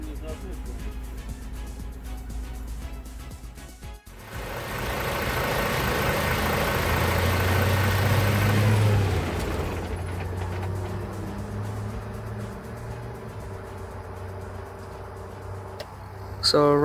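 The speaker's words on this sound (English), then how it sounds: "So right now we will see the bus startup and revving." A Solaris Urbino IV 18 articulated bus engine turns over after a brief lull, then rises into a loud, sustained rev with a deep low rumble before settling back toward a steady idle.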